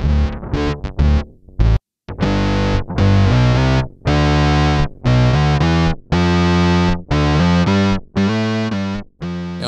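A guitar preset played through an emulated pedal in the Neuro app: loud, distorted electric guitar with a chorus-like shimmer, playing a choppy riff of quick stabs followed by sustained chords separated by brief gaps.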